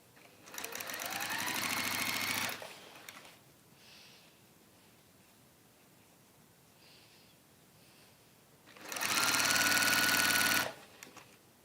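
A sewing machine stitches the turning gap of a waxed fabric warmer in two steady, loud runs of about two seconds each, separated by a quiet pause with faint fabric handling.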